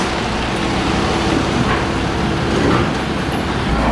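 A 2018 Toyota Camry XSE is driven into the shop, its engine a steady, loud rumbling drone with broad road-like noise and no talk.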